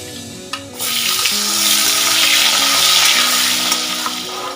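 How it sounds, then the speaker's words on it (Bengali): Potatoes fry in oil in a pan after pointed gourd, a brief clatter, then a loud continuous sizzle swelling steadily and holding to the end. "আমি আলুটা একটু ভেজে নেব।"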